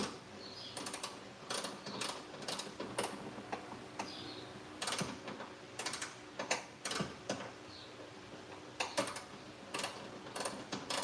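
A ratchet tightens a bolt during a 2025 Toyota Tacoma install, giving quiet, irregular bursts of rapid clicking with pauses between strokes, close and fairly faint.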